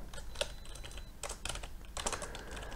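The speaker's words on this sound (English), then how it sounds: "I'm basically just typing like this" Keystrokes on a computer keyboard, a quick irregular patter of close, crisp clicks in bursts with brief pauses, fairly quiet with no voices.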